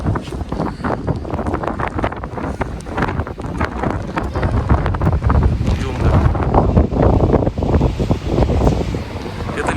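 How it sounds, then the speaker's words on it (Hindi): Strong wind gusts buffet an open ninth-floor terrace, a loud, continuous roaring rush with heavy low rumble on the microphone that swells and surges throughout. "हवा बहुत तेज है यहाँ पे, तो बहुत तेज हवा है"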